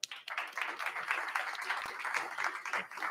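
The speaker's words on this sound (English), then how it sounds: "So a round of applause, please, for Levi." Moderate, somewhat distant applause from a crowd at an Army VERTEX energy event at Capital Factory in downtown Austin, with individual claps audible through a thin, uneven roar and faint murmuring.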